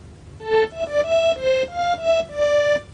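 A synthesized harmonium-like reed tone from a computer music system plays a short run of sustained notes, each swelling gently, alone and fairly close.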